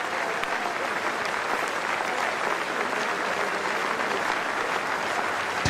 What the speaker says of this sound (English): Neesham will walk off to applause from around the ground